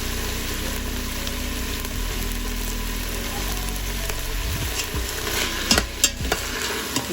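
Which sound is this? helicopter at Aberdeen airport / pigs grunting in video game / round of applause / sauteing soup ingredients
sauteing soup ingredients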